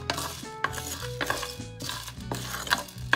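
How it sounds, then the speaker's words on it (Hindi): Whole spices dry roast in a pan for Goan pulao, with a spoon stirring and scraping the metal. Close, uneven clatter and rattling go on without pause, with no talking. "पहले हम खड़े मसालों को ड्राई रोस्ट करेंगे।"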